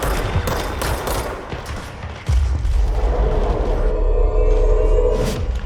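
Gunfire from the video game Control crackles in sustained, dense bursts, with a heavy low rumble thickening partway through as the shooting keeps up, loud and close with no talking.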